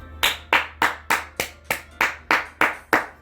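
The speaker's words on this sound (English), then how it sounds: "I'm the first to start applauding." A single pair of hands claps about ten times in a steady, even rhythm, close and crisp with no other sound.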